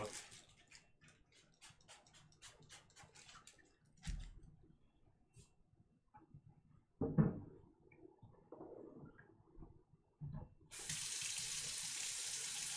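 Water runs from a tap while a screen-printing screen is rinsed, a brief burst early on and then a steady loud rushing stream for the last few seconds, after quieter clicks and handling noises.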